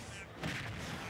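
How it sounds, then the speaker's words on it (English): A grenade explodes in the Super Smash Bros. video game: one short, muffled boom rising out of a faint, busy background of game noise. "taking the grenade explosion"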